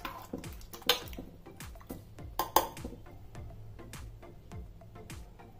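A ladle stirs sambar in a metal cooking pot, giving a repeated rhythm of soft scraping strokes and light metallic clinks and taps, close by and fairly quiet, with a couple of sharper knocks against the rim.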